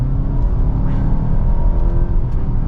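A 2023 Nissan Altima 2.5 SR AWD under throttle on a winding road, heard from inside the cabin as a steady low engine and road rumble without a break, fairly loud and alone.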